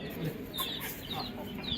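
A hen clucking near a backyard coop: soft, short clucks come in scattered bursts over a steady background hiss.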